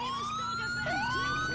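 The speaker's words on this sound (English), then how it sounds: "You broke my siren." A police car siren in the video game LCPDFR wails, rising and falling in pitch, a clear electronic tone at moderate volume with a brief dip and swoop midway.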